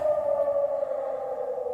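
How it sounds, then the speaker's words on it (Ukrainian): An air raid siren wails over Kharkiv's Saltivka district on a morning in July 2025, a steady droning tone heard from a distance, with no voices. "Лунає повітряна тривога."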